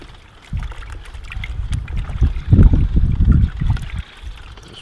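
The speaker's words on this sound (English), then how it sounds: "Just rinse him up and tidy him up a bit" Running water splashing over a squid tube as it is rinsed, a close, uneven gurgle and trickle that starts suddenly and carries on for a few seconds.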